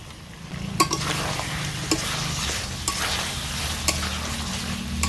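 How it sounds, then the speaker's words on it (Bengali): Chicken curry with green chillies is stirred in a hot pan, a continuous loud sizzle broken by regular scraping knocks of the spoon about once a second. "বাদাম দিয়ে কিন্তু আমি ভালো করে নেড়ে চেড়ে নিয়েছি"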